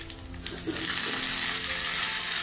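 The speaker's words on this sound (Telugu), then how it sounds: "కొద్దిగా మినపప్పు కొంచెం జీలకర్ర కొంచెం ఆవాలు ఒక ఎండుమిరపకాయ కొంచెం కల్లేమాకు" Urad dal, cumin, mustard seeds, a dried chilli and curry leaves crackle in hot oil for a chutney tempering, with a sizzle that swells into a steady close hiss and a few stirring clicks, with no talking.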